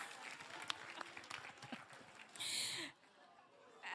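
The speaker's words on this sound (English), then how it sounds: "Then you clap, okay?" Audience applause mixed with crowd noise at a climate justice symposium gathering, with dense scattered claps under a murmur of voices, ending in a brief bright burst before it drops away.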